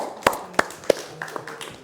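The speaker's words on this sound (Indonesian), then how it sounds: "Tepuk tangan untuk kita semua." Hand claps at an Indonesian Independence Day gathering: three sharp, close, well-spaced claps, then a few lighter, scattered claps trailing off.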